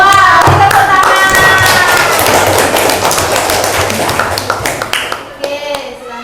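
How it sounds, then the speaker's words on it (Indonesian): A school class claps their hands together in a loud, lively burst, with children's voices calling out over the clapping before it thins out toward the end. "Wow, kita tepuk tangan."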